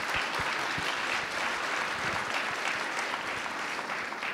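Gala audience at a fireside talk breaking into sustained applause, a dense, even roar of clapping from a large room that continues throughout.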